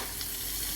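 Onions with sugar fry gently in oil over low heat, giving a steady, dense sizzle that holds evenly through a brief moment.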